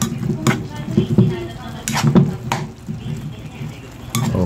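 Meat and shrimp are stirred while they sauté in a pan for ginataang malunggay. Irregular scraping and clinking utensil strokes ride over a soft sizzle, close and fairly loud.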